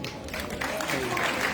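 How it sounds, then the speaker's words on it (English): Applause breaks out for the Commandant General of the Nigeria Security and Civil Defence Corps at a parade ceremony, a brief swell of crowd clapping that builds and thickens, with a voice speaking over its start. "A big round of applause for the Commandant General of Nigeria Security and Civil Defense"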